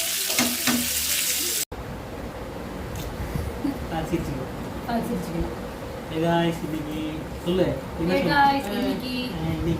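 Seer fish (vanjaram) sizzling and frying in a pan in a home kitchen, a steady crackling hiss with brief louder spatters, while people talk over it.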